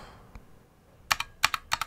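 Akko FX2 mechanical keyboard with red switches being typed on, a handful of close, crisp clacks in small clusters, quiet and alone in an otherwise still room.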